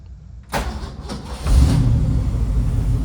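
A 1977 Ford F250 crew cab V8, freshly tuned with a rebuilt carburettor, cranks over and catches, then settles into a steady, loud, close idle with a deep rumble and no talk.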